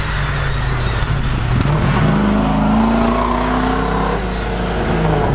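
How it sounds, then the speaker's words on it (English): Shane English's rotary-powered Mazda RX-4 climbs the Legend of the Lakes hillclimb, its engine droning steadily and pitching upward through gears, near and loud with no talk. "Shane English's Mazda RX-4 now making the climb."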